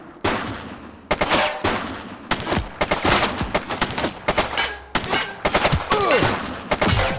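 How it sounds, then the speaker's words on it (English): Rapid bursts of gunfire from a video game shootout, loud and close, with sharp repeated shots and clustered volleys filling the stretch after a brief quiet opening. "She's shooting!"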